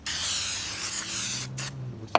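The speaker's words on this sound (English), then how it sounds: "before we throw these on, we're gonna clean them with some brake clean" Brake cleaner sprays from an aerosol can onto new front brake pads for a Mercedes-Benz S550, a steady close hiss lasting about two seconds, briefly broken near the end, with no talking.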